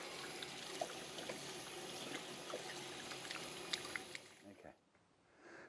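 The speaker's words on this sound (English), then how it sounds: "then on with the tap and rinse it off" Tap water runs steadily while hands are rinsed clean of a gritty olive-scrub hand cleaner, a continuous splashing wash that cuts off near the end.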